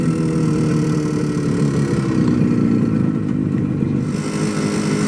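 A classic motorcycle runs down a twisty road by Loch Ness, its engine droning loud and steady up close, with wind rush and light mechanical clatter.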